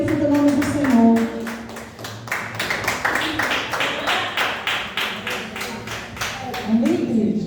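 A church congregation claps in a steady rhythmic burst of praise, loud and close, with voices talking and calling out beneath the clapping throughout.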